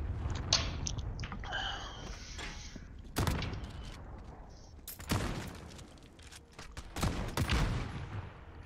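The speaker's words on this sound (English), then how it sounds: "That shit fires like a shotgun. Or not a shotgun, a rocket launcher." Heavy explosive blasts from a rocket launcher in a Modern Warfare video game, several loud booming shots spaced a couple of seconds apart over a constant background din of battle.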